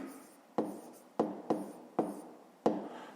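Handwriting on paper while working through a fifth-grade math exercise: five or six soft, close scratchy strokes, each starting with a tap and trailing off, quiet and without talk.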